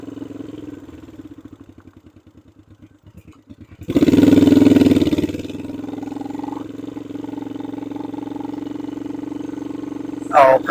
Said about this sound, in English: It's a air-cooled motorcycle,